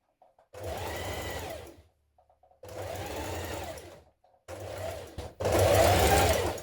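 A domestic sewing machine stitches a dress seam in three bursts, starting with a back tack, each run a steady whirring hum broken by brief pauses, with a faster, louder final stretch.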